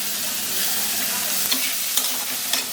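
Pointed gourd seeds frying in hot oil in a pan, a close, steady sizzle with a few light stirring scrapes and pops.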